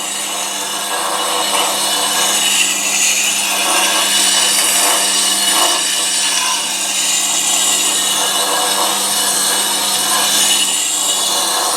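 A lathe turning tool ground on a grinding wheel with light pressure, moved across the wheel face: a steady, close abrasive hiss and rasping grind running continuously without pause, no voices.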